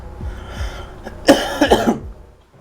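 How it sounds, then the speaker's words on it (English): Someone nearby coughs in a harsh, brief fit of a few throaty bursts, loud against a quiet background. "Stupid cough."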